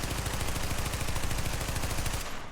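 An SMG on full auto in The Division roars as one loud, continuous, rapid burst for over two seconds, then cuts off abruptly.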